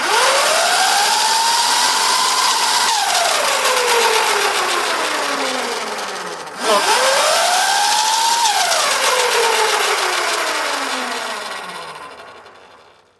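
A Valtinsu EM-5 electric bike fitted with a new chain and upgraded swingarm runs close by, its motor whine climbing in pitch as it speeds up and then sliding down, twice in a row, loud and steady with no talk.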